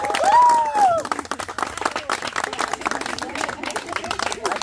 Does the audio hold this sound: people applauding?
yes